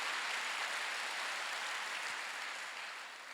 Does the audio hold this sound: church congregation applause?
yes